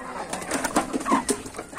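Pigeons or doves in a breeding loft, restless birds waiting to be fed, cooing in soft, overlapping low calls close by with light rustling throughout.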